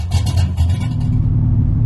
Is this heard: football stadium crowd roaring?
no